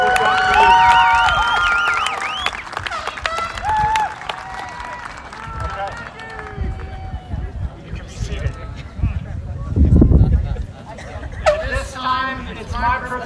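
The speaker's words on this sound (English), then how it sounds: "Now it's your turn to applaud, wave, and recognize everything that these special people have done for you." A crowd at a 2024 high school graduation ceremony applauds and cheers, with broad clapping swelling near the middle and end, mixed with chatter, shouts and a voice over a loudspeaker.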